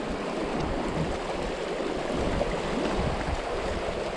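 Strong sea waves roll onto the shore at a fishing spot, a steady broadband wash of surf and churning water that stays at an even level with no break. No voices are heard.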